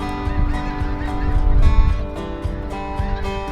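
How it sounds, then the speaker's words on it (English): A flock of thousands of migrating snow geese honks in a dense, continuous chorus of overlapping calls, loud and close throughout. "The annual visit by thousands of snow geese, travelers from far, far away."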